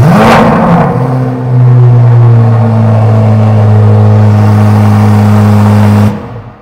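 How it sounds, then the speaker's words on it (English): A 2024 Chevrolet Corvette C8 Z06 in Red Mist fires up by remote start, a sharp loud bark at ignition that settles into a steady, droning high idle for several seconds before cutting off. "we couldn't do a Z06 without at least having a little startup"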